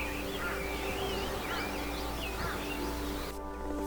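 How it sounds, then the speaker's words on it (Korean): Birds chirp and warble in the morning at a seaside tent campsite on Gaedo island, Yeosu, a dense busy chorus of overlapping calls over a constant low hum, fairly close and loud. "개도의 아침에는 요란한 새소리가 우리를 깨웠다"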